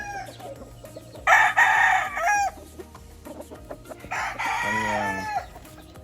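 A Cardinal Kelso gamefowl rooster with a straight P-comb on a gamefarm crows twice in loud, drawn-out calls, separated by a short pause, over a background of other fowl clucking and faint farm noise.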